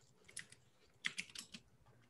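Keystrokes on a clicky computer keyboard during an online meeting: a few quick bursts of sharp, fairly close clicks separated by short pauses, with no talking.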